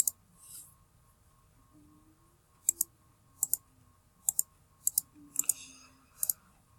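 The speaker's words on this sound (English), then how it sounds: "Sorry if you could hear the mouse clicks, by the way." Sharp computer mouse clicks picked up by a built-in laptop microphone during a Bloons TD Battles game, coming singly and in quick pairs at irregular intervals over a quiet background.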